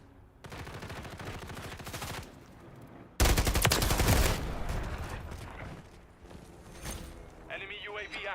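Bursts of rapid automatic gunfire from a remote turret in a multiplayer shooter game: a long rattling volley, a pause, then a louder sustained burst. Game announcer voices and other effects sound over the top.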